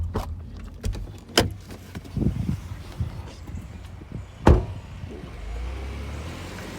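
Someone climbs out of a parked car: a door unlatches and slams with a sharp thud, keys jangle and rustling movement follows, with a car idling nearby and brief voices around.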